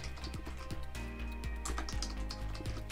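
A computer keyboard being typed on, a string of light, close key clicks at an uneven pace, quiet, with a faint steady background hum and no talking.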